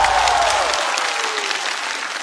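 A stand-up comedy audience applauds steadily for about two seconds, a dense, loud wash of clapping from a large crowd that holds level and stays close.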